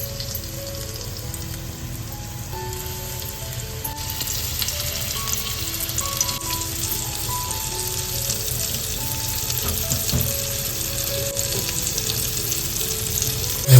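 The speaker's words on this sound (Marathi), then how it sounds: "आता एक एक करून सर्व मासांना मसाला लावून घेते बघा इकडे फ्राय करायला घेते" Masala-coated fish fry in hot oil in a pan, a constant close sizzle with a faint tonal hum and melody running underneath throughout.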